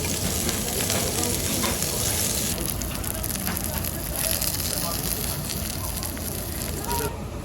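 Pork belly and pork jowl sizzle loudly on a grate over a charcoal briquette fire at a Korean barbecue restaurant, alongside kimchi, garlic and green onions. The crackle is dense and continuous, with diners' voices faintly beneath it.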